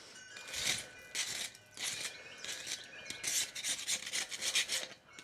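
A metal scraper rasps crust off a grill in a quick series of gritty, uneven strokes, close and fairly quiet, with no voices.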